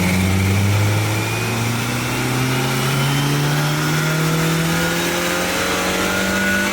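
An Audi 8V A3 Quattro's EA888 engine revs hard on a dyno, steadily climbing in pitch under load, a loud continuous rising drone that cuts off abruptly at the end.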